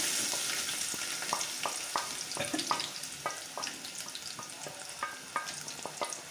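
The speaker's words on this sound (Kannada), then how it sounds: "ಇವಾಗ ಇದನ್ನು ಚೆನ್ನಾಗಿ ಫ್ರೈ ಮಾಡ್ಕೊಳ್ಳಿ" Chopped onions fry in hot oil for a curry, a close, steady sizzle broken by frequent scraping clicks of a spoon stirring the pan.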